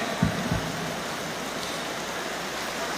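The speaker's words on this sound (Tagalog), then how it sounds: "Lakas ng ulan." Rain falls steadily in a dense, even hiss, with two soft thumps near the start.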